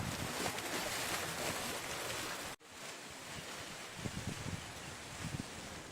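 Heavy floodwater rushes from the open gates of Srisailam Dam in a dense, roaring torrent, loud and continuous, broken by a sudden edit partway before the roar resumes.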